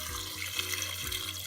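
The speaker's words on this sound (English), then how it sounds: "All right, so pour in all the water." Water pours from a tap or jug into a pot of chicken bones for bone broth, a brief steady splashing gush running close and alone.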